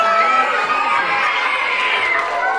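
Children in an audience cheer and shout during a children's animal show, a loud continuous burst of high excited voices that stays steady for a few seconds.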